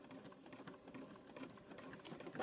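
A sewing machine back stitching through a rope and fabric coaster, a quick steady run of close mechanical needle clatter that continues unbroken for a couple of seconds.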